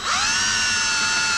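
A power drill countersinks holes in a wooden plank for a plank butt scarf joint, a loud steady high-pitched whine running at constant speed, close and alone with no talk.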